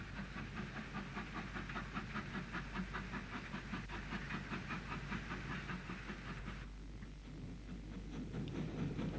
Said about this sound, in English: WT number 10 brings a train of empty coal wagons from the Courtaulds factory at Carrickfergus along the shore of Belfast Lough